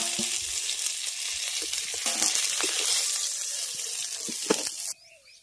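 Fish frying in hot oil in a home kitchen, a dense close crackling sizzle with occasional spatula scrapes, cutting off abruptly near the end, no talk.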